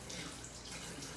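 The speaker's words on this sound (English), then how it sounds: "when we add our cabbage water acid-base indicator to the vinegar" Cabbage-water acid-base indicator pours steadily into vinegar, a continuous close splashing trickle of liquid lasting the whole short moment, with no talking.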